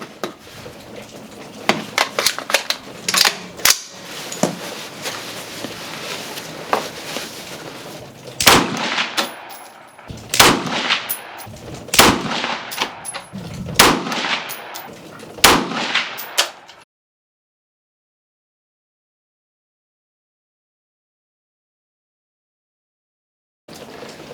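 AR-15 rifle firing SIG Marksman 77-grain open tip match ammunition, a string of loud sharp cracks at irregular intervals with echoing tails, ending in silence.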